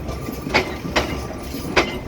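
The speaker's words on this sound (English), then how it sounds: "Look at the beautiful train." A train rumbles at the last station of its line, with a low steady roll broken by three sharp metallic clanks spaced about a second apart.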